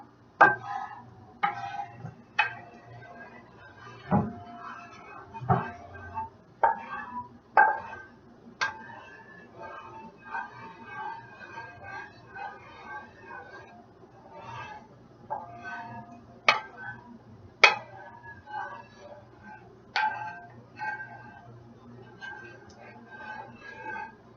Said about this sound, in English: take it off the heat, but continue to keep stirring it for about a minute, so that's what I'm going to do right now